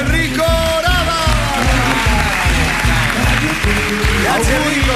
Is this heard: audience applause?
yes